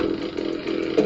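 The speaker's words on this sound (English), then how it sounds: "I know where I can get a chainsaw." Chainsaw from a DOS video game running on an i486DX2-66 PC, a brief buzzing engine drone lasting about a second with a slight pitch rise near the end.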